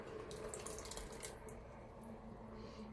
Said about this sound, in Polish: lejemy już pasatę